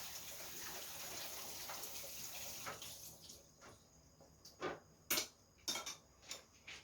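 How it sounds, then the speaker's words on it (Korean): Food being rinsed in cold running tap water at a kitchen sink during home Korean cooking: a steady wash of flowing water that fades, followed by several sharp splashes and clinks as the food is swished and handled. "뜨거운 물이 돼 있으면 찬물에 헹궈주세요"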